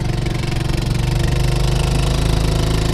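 A Honda outboard motor runs on a Porta-Bote, a loud, close, steady engine drone with a rapid pulsing beat that holds without a break.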